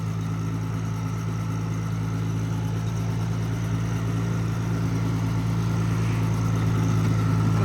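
A Cub Lo-Boy small tractor engine runs steadily at idle, a low droning rumble with a constant hum, close by and unbroken, with no voices.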